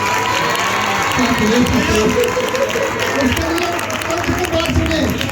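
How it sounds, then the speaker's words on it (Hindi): A congregation at a Friday healing church meeting claps and cheers in a dense, continuous wash of applause, with voices talking over it. "यीशु के नाम के लिए तालियां बजा देंगे"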